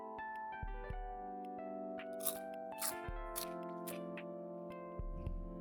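Popcorn being eaten between sips of tea, a series of close, sharp crunches and bites spaced irregularly over a quiet background with faint tonal hum, no talking.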